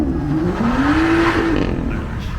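A car drifting at a Nantes cars and coffee meet, with a loud close engine drone that rises and falls in pitch as it slides, and a broad rushing roar beneath.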